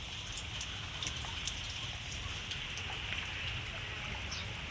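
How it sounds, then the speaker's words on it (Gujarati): Steady monsoon rain falls in a continuous, even hiss of drops on surfaces, moderately loud and unbroken, with a few faint bird calls in the background and no voices. "વરસાદ વરસી રહ્યો છે"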